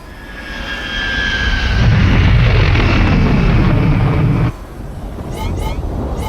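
A starship engine in a Star Wars video game roars as the pilot accelerates, a loud rushing thrust that swells and then cuts abruptly to a quieter hum with brief whooshing passes at the end.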